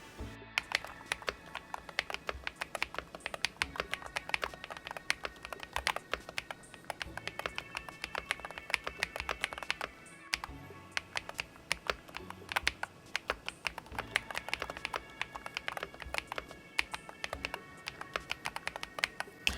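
A DrunkDeer A75 Ultra keyboard fitted with Gateron Jade Pro switches is typed on steadily, a dense run of crisp, close keystroke clicks with a brief pause midway and no talking.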